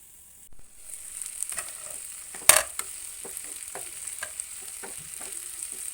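Egg curry with tomatoes is stirred in a hot pan, a continuous sizzle of frying under scattered scraping taps of the spoon, with one sharp clack partway through.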